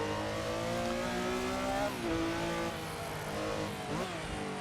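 A 1973 Porsche 911 RSR Gr.6 racing around the Targa Florio in Assetto Corsa, its engine droning steadily at high revs with brief dips and pitch swings at gear changes, loud and close with no voices.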